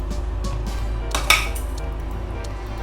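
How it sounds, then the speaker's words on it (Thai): Chopped vegetables go into a bowl while an Isan-style Thai beef salad is made, bringing light clinks of utensils against the dish with one sharper knock midway, close and moderately loud. "ต่อไปเราจะใส่ผักนะคะ ผักที่เราหั่นไว้"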